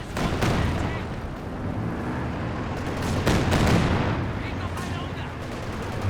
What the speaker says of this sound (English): Comes the Katyusha barrage out the back.